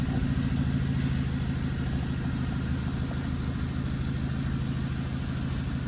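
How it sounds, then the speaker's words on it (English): A hatchback car idles with a slight exhaust blow, a steady low rumbling drone with a faint raspy edge, heard up close and unchanging for the whole stretch, with no one speaking. "Maybe a little bit of an exhaust blow still."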